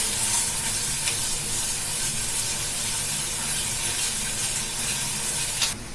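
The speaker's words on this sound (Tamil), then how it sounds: "லைட்டா வந்து இதை ஃப்ரை பண்ணிக்கலாம்." Spiced snack batter sizzles in a hot pan, a steady, close frying hiss running unbroken with a few faint scraping stirs, no talking.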